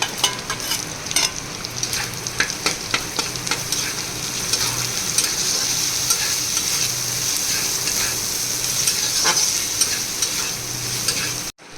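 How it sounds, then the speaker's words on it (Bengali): Ginger paste and chopped chillies frying with leftover rice in a hot pan, a continuous loud sizzle broken by repeated scraping stir strokes throughout, with no talking. "আদা বাটা লঙ্কা কুচিগুলো দিয়ে দেবো"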